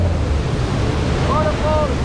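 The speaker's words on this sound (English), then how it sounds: "Waves. Waves. Waves." Ocean surf rolls in a steady, dense wash around a sailing boat on passage to Misool, with wind buffeting the microphone throughout and a faint whistling tone near the end.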